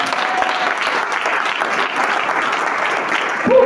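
A church audience claps loudly and continuously, steady dense applause throughout with a brief voice rising near the very end.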